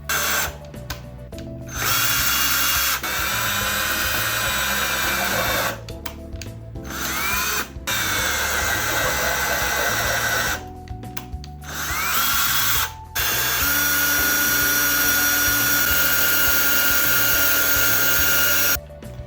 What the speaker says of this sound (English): It's just going a little bit slower because with the wood sandwiched under here, it's now drilling into the wood